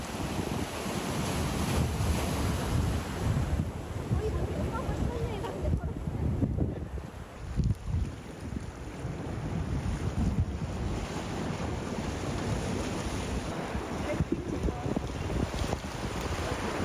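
Gentle waves wash onto a beach at sunset in a continuous soft surf, heavily mixed with wind buffeting the microphone across the whole stretch.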